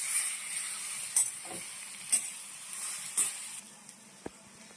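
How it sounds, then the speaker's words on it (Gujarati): Patra pieces being stirred into a hot Gujarati tempering, a soft steady sizzle with several distinct scraping stirs and a sharp clink near the end, close and fairly quiet. "આપણે સરખી રીતે વઘારમાં આપણે મિક્સ કરી દઈશું."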